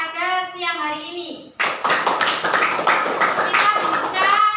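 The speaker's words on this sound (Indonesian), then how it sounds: "Tepuk tangan untuk kita pada siang hari ini" A class of students claps together in a classroom during a maths lesson, a dense burst of hand claps starting partway through and continuing steadily, with a teacher's voice before and children's voices over the clapping.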